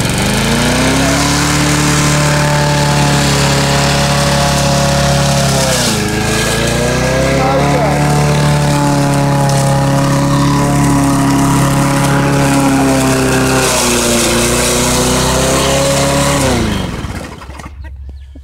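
A curbside-found walk-behind lawn mower engine runs loudly and close by, holding a steady buzzing drone with a couple of brief dips in speed before cutting off near the end; no one speaks.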